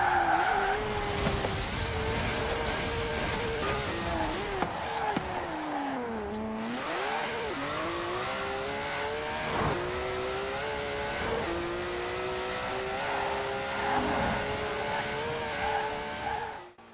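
A 1,200 horsepower car in the video game Forza Horizon 4 roars steadily as it drives, with its engine pitch dipping and climbing through gear changes and bursts of tire squeal.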